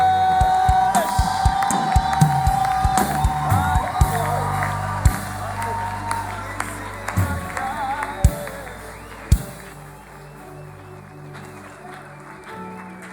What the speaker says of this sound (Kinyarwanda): Reka dukomere Imana amashyi menshi.